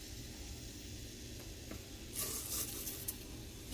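Onion frying in oil in a pan for Nigerian fried rice, a steady close sizzle that swells louder and brighter partway through, alone without talk.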